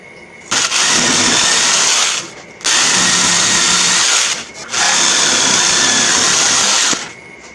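A power drill drives screws into a glued wooden piece on an art project. Three loud, close whirring bursts of a few seconds each are separated by brief silent gaps.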